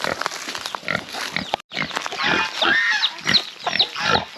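Pigs on a farm grunt and squeal close by in quick, overlapping bursts, with chicks among them, a lively mix of snorts and higher squeals.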